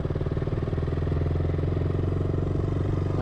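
A KTM Duke 200 motorcycle engine runs steadily close by, a low, even rumble with a faint clattering edge that holds for the whole stretch.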